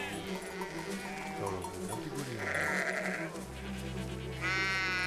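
Sheep in the video game Valiant Hearts bleat a few times, wavering cries rising over a busy background of music and ambient sound, with a faint voice briefly present.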